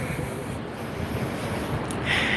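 Harbour water at Darling Harbour in Sydney, near Pyrmont Bridge, makes a steady broad wash of lapping and surf-like noise with wind buffeting the microphone, continuous and fairly loud throughout.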